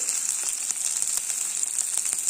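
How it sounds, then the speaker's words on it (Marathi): Onion, garlic, ginger and coriander roast in a little oil in a pan, giving a steady, close frying hiss with faint crackles and no voices. "कांदा लसूण आलं आणि कोथिंबीर ही भाजून घेऊयात"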